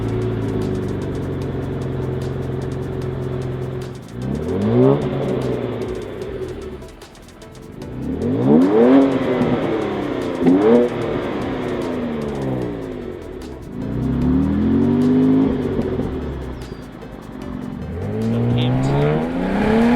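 A 2014-or-later Cadillac CTS, stock except for parallel resonators, revs and accelerates in several rising surges. Its engine note swells and falls repeatedly with a deep, grunty exhaust tone and no talking.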